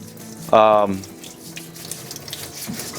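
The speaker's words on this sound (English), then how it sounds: "this is the first time we're using this sink for its purpose, for washing and cleaning our vegetables" Tap water runs into a high-quality commercial sink while vegetables are washed, a steady gush with a brief louder tonal splash near the start, then softer running water and handling underneath.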